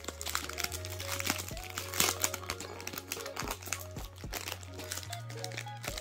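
Plastic packaging of a Pen & Gear tearaway planner pad torn open, with close crinkling and rustling throughout over a steady low hum.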